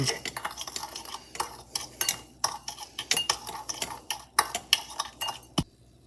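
Snickerdoodle cookie dough being mixed in a bowl, a steady run of close clinks and scrapes of a utensil against the bowl, fairly loud and continuous, pausing briefly near the end.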